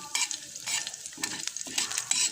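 Sautéed bottle gourd being stirred in a pan, a spoon scraping and pushing the vegetables in repeated close strokes over a light sizzle, with no talking.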